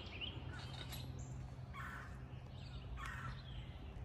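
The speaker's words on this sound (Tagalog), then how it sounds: "maraming mga huni ng ibon" Birds call in a backyard garden, several brief bright calls with a harsh cawing quality rising above a steady low outdoor hum at moderate distance.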